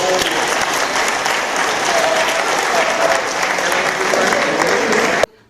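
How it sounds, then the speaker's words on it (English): Loud, sustained audience applause at a summer legends event, a thick continuous patter of many hands that cuts off abruptly near the end. "So a big clap and watch the video."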